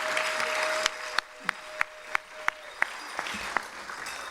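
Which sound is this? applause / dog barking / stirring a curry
applause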